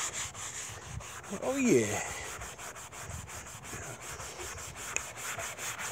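Coarse side of a Dollar Tree sanding sponge rubbed across wood, giving close, scratchy back-and-forth strokes that swell briefly in the middle, with a short spoken remark.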